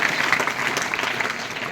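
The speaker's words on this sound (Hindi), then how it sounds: "ताली बजा दीजिए" A room full of people claps together in brisk, dense applause, steady and fairly loud from start to finish with no break or fade, the individual hand claps blurring into one continuous wash of sound.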